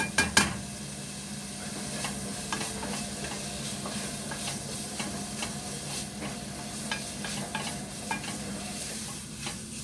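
Vegetables such as carrot and turnip sweat in a pan over raised heat, giving a close steady sizzle with frequent scraping stirs and a few sharp knocks of utensil against pan.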